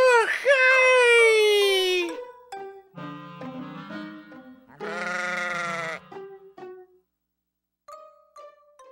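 Sheep bleating in a nativity shepherds' song: several long, wavering bleats ring out loud and near, broken by short gaps and mixed with voices.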